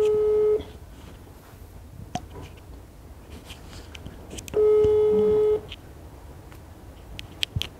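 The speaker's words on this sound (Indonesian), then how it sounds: "Ada yang berdering." A mobile phone gives two short electronic ringing tones, each about half a second to a second long and several seconds apart, over quiet room noise and faint movement.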